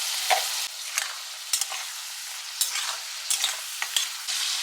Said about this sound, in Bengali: হালকা করে একটুখানি ভেজে নেবো। আর একই সাথে আমি গ্রিন পিসগুলো দিয়ে দিচ্ছি।